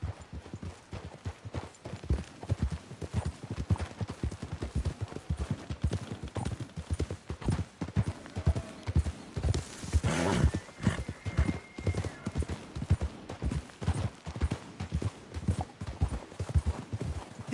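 Horses' hooves clip-clop steadily on the ground in the Red Dead game, a brisk continuous rhythm of close, clear hoofbeats with a brief whinny or swish midway.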